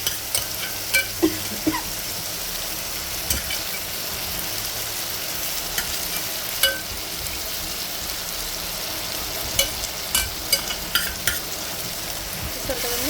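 Banana flower and moong dal curry being stirred in a pan, with soft sizzling and scattered spoon scrapes and taps recurring under a low, even frying hiss.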